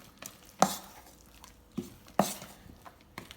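Fruit and melted butter mixture being stirred in a bowl for fruitcake batter, a few soft scraping and knocking strokes spaced about a second apart, close and fairly quiet.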